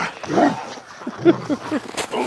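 Dog whining eagerly to play, short whimpers and yips close by against a noisy background, with faint talk around it.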